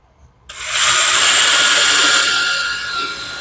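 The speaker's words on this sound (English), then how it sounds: "All right, we're going to drill through." A power drill bores through a model railway module, whining loudly and steadily for about three seconds after a sudden start, close by and with no talk.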